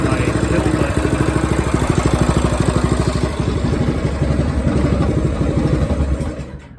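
A small engine on a two-seater Manco Stinger go-kart runs loud and close with a steady, rapid pulsing beat, then fades away near the end.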